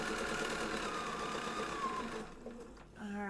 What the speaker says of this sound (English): She's done sewing for the night.